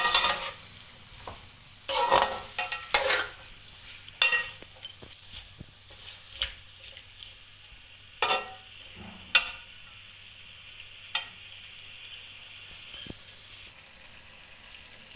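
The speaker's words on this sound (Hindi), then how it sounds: "दो से 3 मिनट तक इसको हिलाएं।" Potatoes, tomato and onion fry in a pan for aloo anda bhujia while a spoon stirs them, with intermittent scraping strokes over a soft continuous sizzle and no talking.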